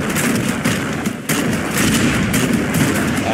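Rocket fire in the naval combat game Age of Water makes a dense continuous roar with repeated bursts and booms, loud and steady throughout.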